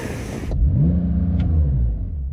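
Porsche 911 Turbo S flat-six revved with its exhaust in loud mode and a soft limiter holding it below 3,500 RPM, a deep rising then falling rumble up close after a brief hiss.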